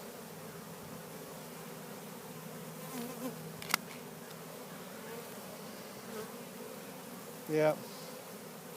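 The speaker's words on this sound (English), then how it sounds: "I got a little dabble of bees right here." A swarm of bees on a cedar tree gives a soft, steady buzzing hum throughout, with a few brief louder buzzes as insects pass close and a single short spoken word near the end.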